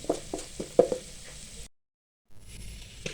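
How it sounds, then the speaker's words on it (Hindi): Spices and carom seeds fry for samosa filling, with a steady sizzle and several stirring scrapes before a brief silence, then the sizzle returns. "इसकी भी हम 2 मिनट बुनाई करेंगे ताकि मसाले हमारे अच्छी तरह फ्राई हो जाए इसमें।"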